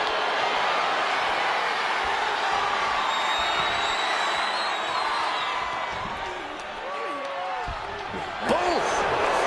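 A large wrestling arena crowd at a SmackDown Saturday Night's Main Event show roars in a steady, dense wall of cheering and chatter, with a few sharp thuds and whoops rising near the end.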